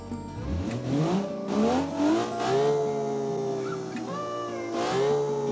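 A custom-built track car in BeamNG driving revs up through the gears, its engine note climbing and shifting repeatedly in smooth, loud, close sweeps with a continuous whine.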